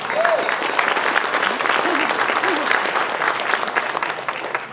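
An audience at a public input session in Valemount, BC, gives sustained applause, dense, steady clapping from a roomful of people with a few voices briefly audible over it.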